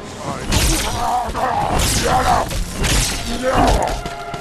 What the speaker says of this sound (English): Let me see what I can do with these grenades.